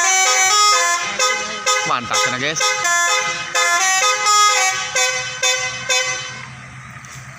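Telolet horn of a bus in a parking lot plays repeated bright melodic multi-tone toots with falling and rising slides, loud and close, while people talk briefly.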